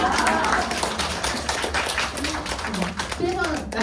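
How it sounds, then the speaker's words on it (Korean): Audience applause at a talk, a steady wash of clapping under loud, continuous speech from a speaker addressing the room. "박수"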